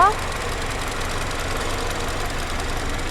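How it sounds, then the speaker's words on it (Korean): Second-generation Mini Cooper S Clubman idling with the hood open, a steady, even engine hum and faint ticking running continuously, close and moderately loud, with no talk. "엔진 소리 일정하네요."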